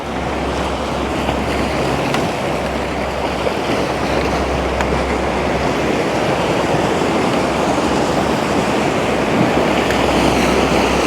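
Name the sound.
waves on a stony beach at Mellieħa, Malta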